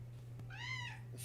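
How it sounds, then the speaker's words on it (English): A pet cat gives a single clear meow, rising then falling, near and fairly loud, over a steady low electrical hum in a quiet room. "Oh, he meowed at that one"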